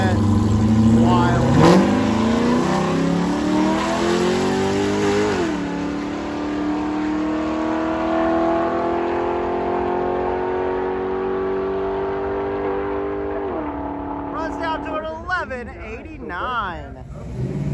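Corvettes race down a drag strip at a Michigan drag-and-drive event. Loud engine roars rise and fall as the cars accelerate through gear changes and pass by, and a voice talks over the sound near the end.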